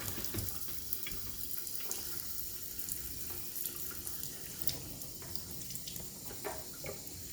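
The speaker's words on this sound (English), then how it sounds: "Barely turn the water on." Tap water runs at a low trickle into a Berkey water filter while its filters are primed, a steady close hiss with small splashing spatters throughout.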